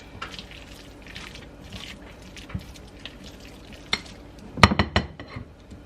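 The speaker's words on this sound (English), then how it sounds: "I'm going to take this rubber spatula and actually just mix this up" A rubber spatula stirs melting low-carb bagel dough in a bowl, with soft scraping and intermittent taps, then a brief cluster of sharper clinks against the bowl near the end.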